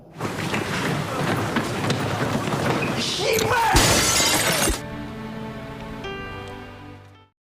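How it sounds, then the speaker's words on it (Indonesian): A glass window shatters loudly with a burst of breaking and crashing glass, followed by a dramatic musical chord that rings out and fades. "tiba-tiba ia memecahkan kaca sekolah"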